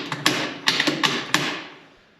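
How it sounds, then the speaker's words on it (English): Cadex Kraken multicaliber rifle having its barrel bolt put back in: a short run of close, sharp metallic clicks and taps, about six distinct strikes in quick uneven rhythm, then fading quiet. "Put my barrel bolt back in."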